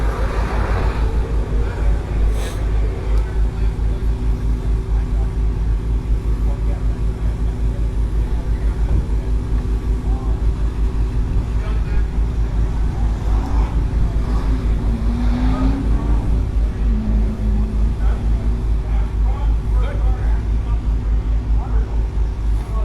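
Sports cars including a Corvette, Hellcat, Ferrari 812 and ACR Viper run on a race track, giving a loud continuous engine drone heard from inside one car under a voice.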